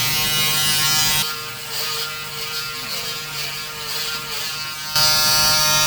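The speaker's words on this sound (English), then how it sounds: "Okay, let's fire it up and let's see how we go." A Braun Series 5 electric shaver runs with a steady close buzzing whine. The motor tone shifts slightly while it is in use, and the buzz stays continuous throughout with no talking.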